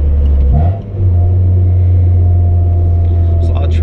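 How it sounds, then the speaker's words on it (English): Steady low car engine drone with road rumble inside a Honda converted to electric power steering with a Volvo pump, driving through traffic; continuous and close, with a brief dip near the start. "There's a lot of traffic right now."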